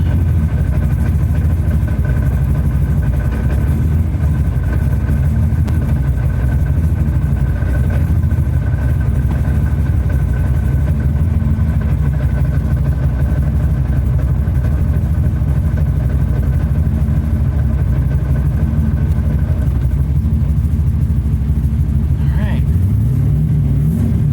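A Corvette Z06 fitted with a Haltech Nexus engine management system drives with the windows open, its engine making a steady, loud low drone with road rumble the whole way through and no clear gear changes.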